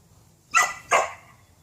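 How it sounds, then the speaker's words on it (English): A neighbor's new dog gives two quick, sharp barks close together, fairly near and distinct over a quiet background, with no talking. "You can't bark, I'm filming a video."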